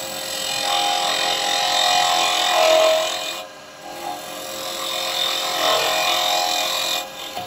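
A spindle gouge cutting a wooden duck egg cup on a lathe makes a steady, loud, close hiss and whir. It dips briefly in the middle, then resumes, with no speech.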